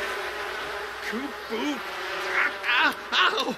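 A buzzing swarm of bees in The Sims 4, droning insect hum with rising and falling wavering tones, fairly close and moderately loud, with a voice-like chatter of game sounds mixed in.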